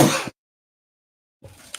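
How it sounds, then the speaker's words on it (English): A single sharp, close sneeze bursts out at the start, followed by silence and then a faint rustle of movement. "Good sneeze there."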